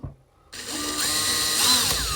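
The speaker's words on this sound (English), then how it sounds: "Just going to drill this second hole now." Power drill boring a second hole for a DIY Samsung LED strip grow light, starting after a brief quiet moment, then a steady high whine that rises slightly in pitch and continues to the end.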